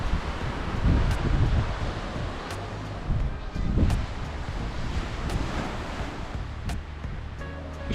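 Waves wash onto a shingle beach at high tide near Cromer, a steady rushing surf with swelling pulses and gusty wind buffeting the microphone, fairly close, with faint talking in the background.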